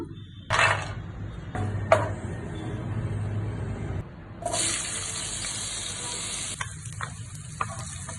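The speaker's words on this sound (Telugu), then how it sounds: "వాటర్ అండి, వాటర్ ఎంత క్వాంటిటీ అనేది కూడా నేను చూపిస్తాను" Water is poured into a pan while making pineapple kesari, producing several short splashing bursts followed by a longer steady sizzling pour that stops abruptly, with faint clinks afterward.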